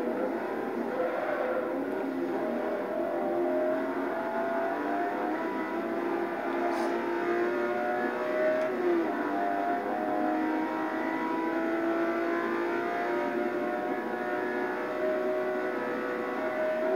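A Bugatti race car in a video game revs continuously with a sustained, layered engine whine. The pitch rises and falls steadily, with faint tire noise, and no voices are heard.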